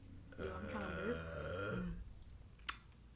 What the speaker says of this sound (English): Yo, I'm trying to burp.